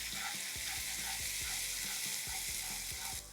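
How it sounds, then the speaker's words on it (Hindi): Onions frying in hot oil with ginger-garlic paste being added for paneer do pyaaza, a steady loud sizzle broken by regular scraping stirs of a spoon against the pan. "प्याज तैयार है, इसमें अब हम डालेंगे अदरक और लहसुन की पेस्ट"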